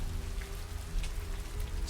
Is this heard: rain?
yes